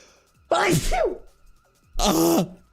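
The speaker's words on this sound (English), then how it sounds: "Oh my god, I'm gonna sneeze" Two sharp sneezes from one person, each opening with a quick gasping intake and bursting loud and close, about a second and a half apart.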